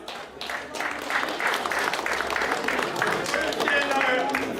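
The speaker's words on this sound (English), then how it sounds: "The umpires who administer this game, I would want you all to give them a round of applause as well." Spectators at a Nevis versus St Kitts cricket match clap for the umpires, a moderate patter of applause with crowd murmur and voices mixed in, fairly distant.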